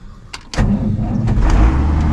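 A cattle truck on a farm cranks, then its engine catches with a sudden deep roar and settles into a loud, steady rumbling idle close by.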